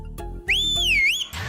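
A sharp, loud whistle in a Telugu comedy scene, one sustained tone that dips and rises in pitch, set between brief thumps and other noises.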